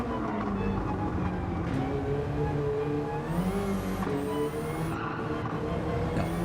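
A race car in Gran Turismo 7 coasts in third gear, its engine a steady droning hum with shifting harmonic tones and a rising high whine partway through, continuous and moderately loud with no talk.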